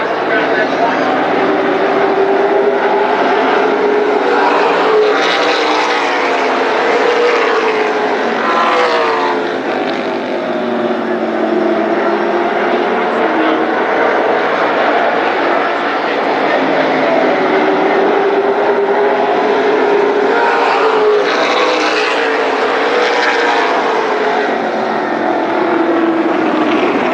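1998 race cars circling Berlin Raceway during a NAMARS midget, late model and super stock night, a loud constant engine drone with rising and falling passes, under a track announcer's running commentary.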